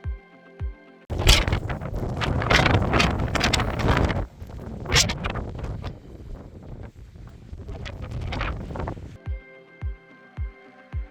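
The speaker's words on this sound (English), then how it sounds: "As a side note, it's crazy windy up there." Strong wind buffeting a motorcyclist's microphone high on the Isle of Skye in Scotland, a loud, continuous roaring rush that swells and gusts for several seconds, with a few soft thumps before and after.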